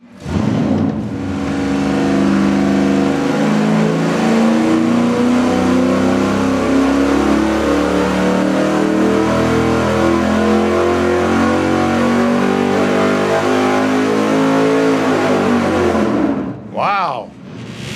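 Ford Windsor V8 on an engine dyno with a swapped intake manifold, roaring loud and close in one long sustained pull with rising pitch, then cutting off sharply near the end.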